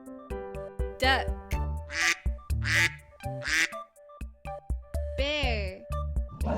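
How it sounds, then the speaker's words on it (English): Duck quacking in a series of short nasal calls, close and distinct over a plinking children's music backing. "Duck."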